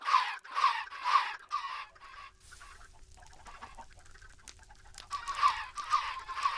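Minecraft baby chickens give quick bursts of repeated squeaky clucks, several short calls in a row, then a quieter gap with low rumble before another run of clucks, with no talking.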